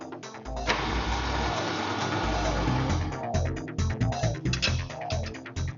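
A Jeep Cherokee with a rebuilt rear axle differential runs on a test drive, its engine droning steadily and loudly with rhythmic fluctuations and mechanical clatter throughout, no voices.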